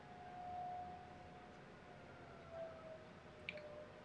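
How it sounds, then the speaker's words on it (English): A small-town tornado siren test in Kansas, heard faintly from a distance as a long, steady, wavering tone that holds and dips over several seconds behind a quiet indoor room. "It's our tornado siren test."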